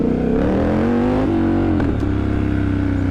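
A Triumph Scrambler 1200 motorcycle engine revs hard under aggressive throttle, a loud close rising growl that climbs in pitch, dips briefly, then holds a steady drone.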